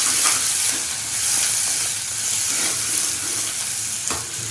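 Green chillies and spring onions are stirred in a hot pan for Kathiawari-style baingan bharta, giving an even, close sizzle broken by soft scraping stir strokes, with no voices.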